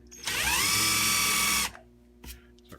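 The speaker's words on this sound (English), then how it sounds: "It's our countersink." A drill turning a countersink bit, one loud high whirring burst of about a second and a half up close, followed by a couple of soft knocks.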